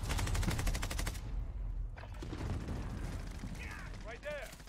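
Rapid automatic gunfire in a Call of Duty match, a fast sustained burst of shots followed by scattered sounds, loud and close, with players talking over the game.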